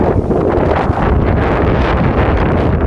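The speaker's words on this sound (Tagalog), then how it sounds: "malakas lang po talaga yung hangin" Strong summer wind in Japan buffets the microphone in a constant heavy roar, gusting without pause for the whole stretch.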